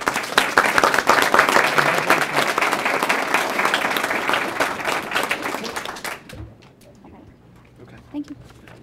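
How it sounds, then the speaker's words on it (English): An audience at a board of education meeting applauds two school principals, dense clapping that swells and holds for about six seconds, then trails off into a few scattered claps and faint room noise. "Please give them a round of applause."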